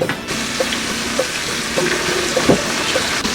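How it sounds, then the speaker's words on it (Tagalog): Garlic and onion sauté in a pan with a steady sizzle, broken by several scraping stirs of a utensil close by. "Tsaka natin gigisa yung bawang sibuyas"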